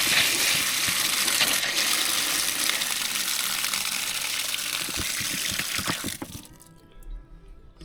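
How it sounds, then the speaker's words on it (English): An outdoor water tap turned on full, spraying a loud, steady broadband rush of water for about six seconds before it cuts off, leaving quiet with faint dripping and splashes. "when we turn the tap on like that, it'll spray water and then burst some air"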